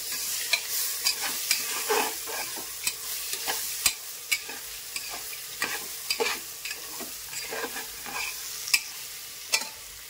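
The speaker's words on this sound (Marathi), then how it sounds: "माझ्याकडे जे अवेलेबल होतं ते मी टाकत आहे। आणि त्याला हलवून घेऊ चांगलं।" Carrots and other vegetables fry for khichdi while a spatula stirs them, producing a continuous close sizzle with frequent sharp scrapes and clicks against the pan. The stirring is uneven and no one speaks.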